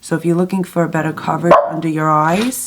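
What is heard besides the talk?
dog barking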